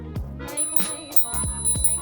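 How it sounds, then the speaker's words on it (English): Bell on a Solar E1 electric kickstart scooter rings in several quick, bright dings spread over two seconds, close and clear over outdoor rolling noise. "And it comes with an actual bell."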